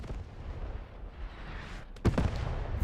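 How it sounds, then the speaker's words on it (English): German artillery shells landing in Post Scriptum, a low rumbling battlefield bed broken by one sharp, heavy blast near the end that leaves a rolling boom. "very well-placed German artillery, landing right next to the position where the Firefly and Staghound were originally posed"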